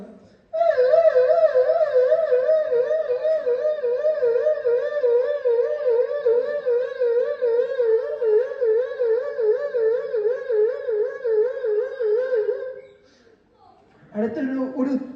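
A single voice imitates a police vehicle siren at a special school program, holding a loud, steady wavering wail for about twelve seconds before breaking off into a brief burst of voice.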